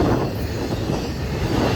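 FECR freight train rolling past in St. Augustine, Florida, a steady loud broadband rumble of railcars and wheels close by, continuous throughout with no voices.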